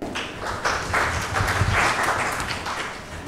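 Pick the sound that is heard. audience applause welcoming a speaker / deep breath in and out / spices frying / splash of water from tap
audience applause welcoming a speaker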